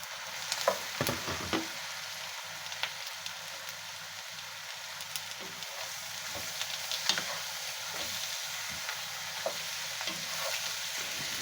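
Shrimp frying in a pan while being stirred: a steady close sizzle with repeated scrapes and clicks of a utensil against the pan, no talking.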